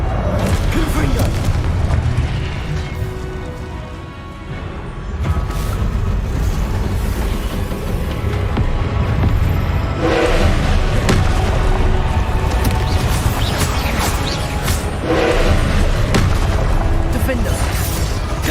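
Confringo spell blasts explode in the Hogwarts Legacy game, with repeated heavy booms bursting out of a loud, continuous wash of battle noise.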